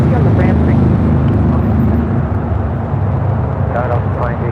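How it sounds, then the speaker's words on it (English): A Boeing 777 freighter takes off at LAX, its loud, steady engine roar holding throughout with voices talking over it. "2538 taking off to Guangzhou on a 777 freighter"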